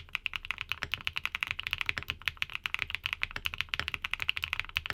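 Rapid, steady typing on a mechanical keyboard with Populus switches, crisp, clacky keystrokes close up and no voices.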